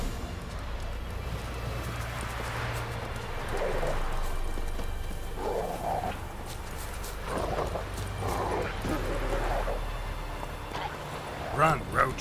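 Roach the horse galloping in a video game, rhythmic hoofbeats under wind and ambient noise, with a voice speaking over the riding sounds at a moderate level.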